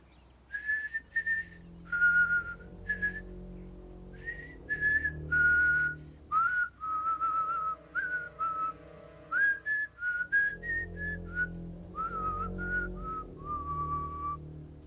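A person whistles the tune Camptown Races, clear melodic phrases with short pauses between notes, close and fairly loud over a soft low background.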